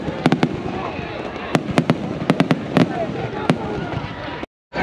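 Sharp Fourth of July fireworks bangs crack out one after another at irregular intervals over crowd chatter and background noise, loud and close, then a brief silence.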